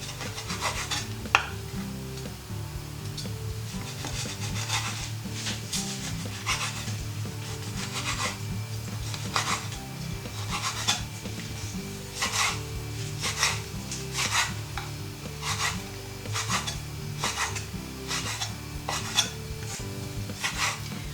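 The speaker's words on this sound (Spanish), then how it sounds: "Picamos el tomate deshidratado en trocitos." Knife chopping dehydrated tomato into small pieces on a board, a steady run of soft, close taps and scraping strokes repeated throughout, with no talking.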